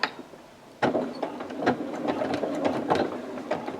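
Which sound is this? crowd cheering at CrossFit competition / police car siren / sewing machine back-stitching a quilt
sewing machine back-stitching a quilt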